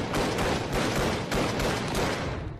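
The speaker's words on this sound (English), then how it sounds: "I used a gun. Specifically, the glorious Kraber from Titanfall 2" Heavy gunfire in a heavily modded Minecraft RLCraft game featuring the Kraber sniper rifle from Titanfall 2, a continuous crackling barrage of shots with a few sharper reports, loud and close throughout.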